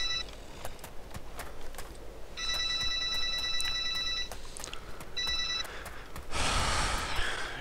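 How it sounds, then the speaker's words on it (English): A phone ringing over a player's open microphone in a DayZ game, repeated electronic ring bursts with clicks and handling noise between them, ending in a burst of breathy rustle. "Can you not mute your mic when the phone fucking calls?"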